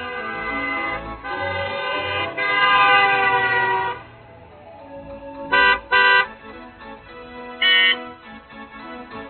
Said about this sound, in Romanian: Zgomotul produs de claxonul unei mașini depășește cu mult această limită.